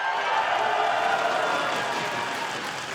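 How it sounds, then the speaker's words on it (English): A large esports arena crowd at a League of Legends playoff match between Cloud9 and 100 Thieves, a steady roar of cheering and applause filling the hall, loud and sustained without pause. "I mean the crowd is just amazing"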